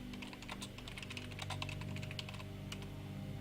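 Steady typing on a computer keyboard, a quick run of close, light key clicks at an uneven pace, alone over a constant low hum of computer fans.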